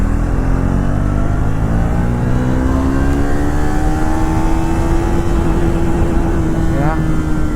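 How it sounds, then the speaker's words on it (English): A Triumph Thruxton 400 motorcycle engine revving up through third gear toward its redline, a loud, close, steadily rising engine whine with continuous rushing wind noise. "Around 108 kmph in the third gear, it redlines."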